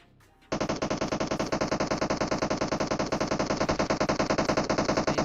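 Rapid automatic gunfire bursts out after a brief quiet moment and keeps going in a steady, fast, loud rattle.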